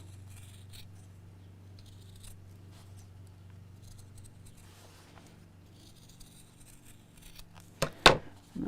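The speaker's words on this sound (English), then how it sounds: "And then I cut out the shape around both pieces." Fabric scissors cut out the pieces of a simple cross-body bag, giving a couple of quick, crisp snips near the end after a long stretch of quiet room hum.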